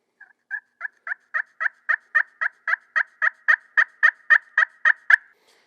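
A Primos Rare Breed slate turkey call works out a single run of about eighteen evenly spaced yelps. The notes are crisp and close, they grow slightly louder through the sequence, and there is no other sound behind them.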